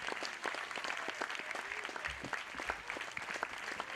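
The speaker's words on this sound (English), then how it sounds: "Can we have one more round of applause for Jay?" An outdoor crowd at a candlelight vigil gives a modest round of applause, steady scattered clapping at moderate distance for several seconds.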